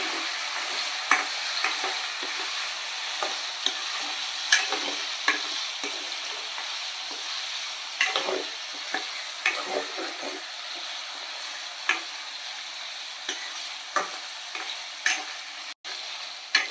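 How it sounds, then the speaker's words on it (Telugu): Prawns frying in oil for a prawn pickle, with a constant close hiss and sizzle broken by frequent small clicks and scrapes as they are stirred. "ఆయిల్లో కొంచెం బ్రౌన్ కలర్ వచ్చే విధంగా మనం వేపుకోవాలి"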